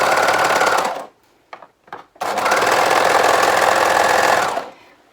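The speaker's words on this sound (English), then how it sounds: "So I just line up the next portion that I'm sewing without taking that one out" A domestic sewing machine runs in a fast steady whir while chain-piecing fabric, stops for a moment with a couple of short clicks and bursts, then runs again at full speed before slowing.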